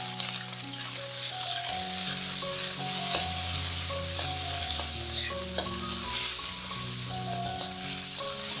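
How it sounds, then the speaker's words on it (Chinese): Close-up sizzling of pork belly stir-frying in rapeseed oil, with repeated spatula scrapes and clinks, over soft background music. "我们用菜籽油来炒五花肉"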